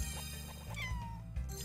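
In the Doggie Dash pet-care game, a cartoon kitty gives a soft, quiet meow with a slight upward then falling tone, layered over faint background game music and heard without any voices.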